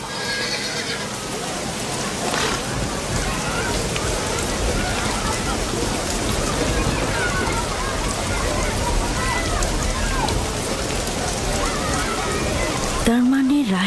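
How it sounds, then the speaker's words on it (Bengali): Steady rain falls throughout with a constant hiss, mixed with horse whinnies and faint clip-clop; a brief tonal sound rises at the very end. "দেখো বৃষ্টি এসেছে, এটা ফাদ্দানের দুর্ভিক্ষকে তাড়িয়ে দেবে।"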